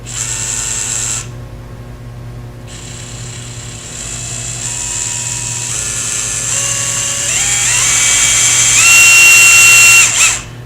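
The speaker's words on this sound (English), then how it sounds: "I have a number 50 drill bit in my drill" A power drill with a number 50 bit whines steadily, pausing once briefly, then rising in pitch as it bites into material before stopping abruptly.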